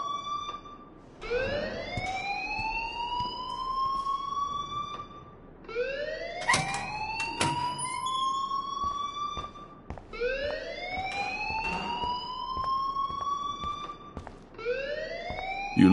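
A school fire alarm in the game Life is Strange wails in long rising sweeps, each swell climbing and holding before restarting, repeating four times loud and close with faint clatter beneath and no talk.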